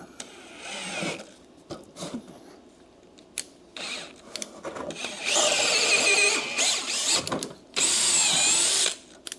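A lathe drilling with large drill bits, cutting two 15/16 holes: loud bursts of high, screeching metal cutting alternate with quieter pauses and brief mechanical clunks, with no talking.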